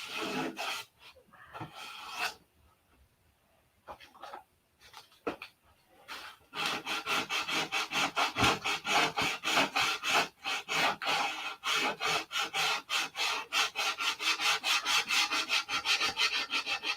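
Hand-sanding the nose glass of a P-47 model gives quiet, scattered scrapes at first, then a long run of rapid, steady back-and-forth rasping strokes, close and fairly loud.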